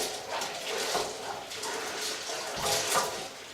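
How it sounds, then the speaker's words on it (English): Baking soda being stirred into water in a bowl while making hominy by the wood ash method, soft irregular swishing and sloshing, moderately quiet and close, with no talk. "Give it a quick stir to make sure that the baking soda is completely dissolved in the water."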